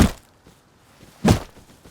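Two heavy footsteps in the video game Rust, spaced about a second apart, close and thudding against near silence.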